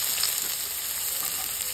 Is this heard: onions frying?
yes